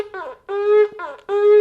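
A shofar blown in the groaning ta'utu style of shevarim, four wavering, reedy blasts in quick succession, the later ones held longer, loud and close with nothing else heard.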